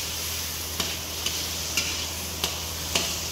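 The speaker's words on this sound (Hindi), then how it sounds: "अब इसके अंदर मैं टमाटर और हरी मिर्च ऐड करूँगा, और फिर इसको इसकी अच्छे से भुनाई करेंगे।" Tomatoes and green chilies fry in a pan for dhaba-style dal mash, a soft steady sizzle with a few faint spoon taps against the pan, fairly quiet and without talk.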